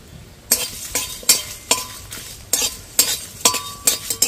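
Dried red chillies and whole coriander seeds being stirred dry in a hot kadai, a run of crisp scraping, rattling strokes roughly every half second, close and clear with no voices.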